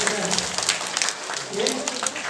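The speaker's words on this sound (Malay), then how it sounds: "Tepukan. Tepukan." An audience gives a short round of clapping at an event, scattered hand claps mixed with voices talking over them.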